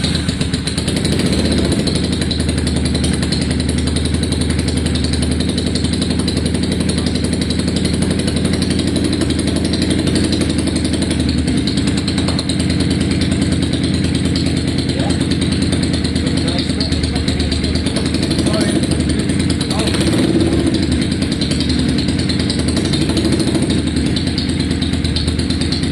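Farrago 535 motorcycle with straight pipes running steadily, a loud, close, continuous throbbing exhaust rumble with slight revs, voices talking beneath it.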